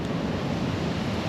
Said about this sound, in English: there's the odd rogue wave that keeps hitting the side, and it must be coming up 10 foot in the air